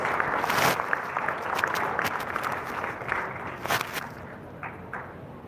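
A gala audience at an awards evening claps in a loose, moderately loud burst that thins out unevenly, with scattered individual claps and light crowd rustle.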